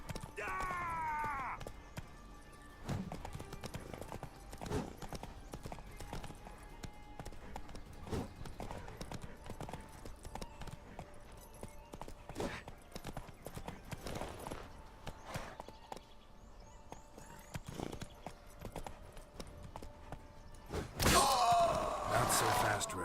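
In The Witcher 3, a horse's hooves clip-clop in a steady walking rhythm with occasional thuds, moderately close, ending in a louder burst of noise.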